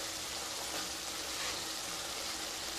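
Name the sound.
potatoes sautéing with spices in a pan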